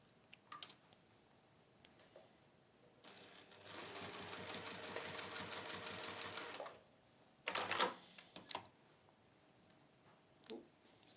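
A domestic sewing machine stitches a cushion in one steady run of rapid, even mechanical clatter lasting a few seconds, followed by a brief second burst, close and fairly quiet, with small handling clicks around it.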